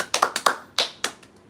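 Hands clap out a short rhythmic pattern of about six crisp, close claps in uneven groupings, ending with fainter taps trailing off in a quiet room.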